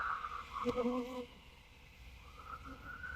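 Honey bees buzz in a steady drone while a nuc colony is moved into a full hive. A louder burst swells early, then the hum settles low and continuous and rises slightly again near the end. No voices are heard.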